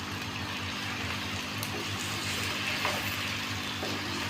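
Chicken fries in a pan with garlic and ginger, a steady, fairly quiet sizzle with faint crackles and light stirring, close by and without talk.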